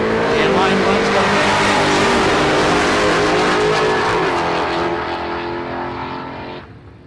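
Street drag racing at the South Coast 2k Street Challenge 2022: loud, roaring car engines at full acceleration, sustained and then fading away, with commentary underneath.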